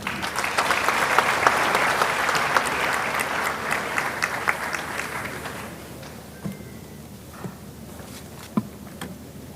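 A large audience at a university congregation and memorial lecture applauds steadily for about five seconds, a full dense clatter that then tapers off into scattered claps and quiet hall noise.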